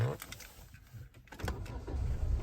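A car engine is started during a driving practice session, with a low rumble building and carrying on steadily after a short cranking burst about midway, while faint voices murmur in the background.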